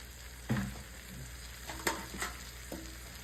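Oxtail browning in a pot for Jamaican stew: a low continuous sizzle broken by a few sharp knocks and scrapes of a utensil against the pot, no voices.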